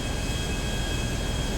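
Airplane flying over a city map in the LSPDFR video game, a steady, even engine drone with a thin high whine, constant and unbroken throughout.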